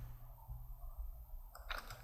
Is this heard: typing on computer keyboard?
yes